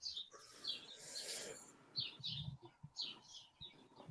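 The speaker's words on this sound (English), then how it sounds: "I love the sound of birds." Small birds chirp and tweet in quick, scattered bursts at a low level, sounding somewhat distant. Soft rustling and rubbing noises sit between the calls, and no one speaks.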